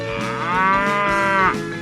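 A cow in a 3D animal sliding video game gives one long, loud, close moo that holds a steady droning pitch before dropping off, with no talking during it.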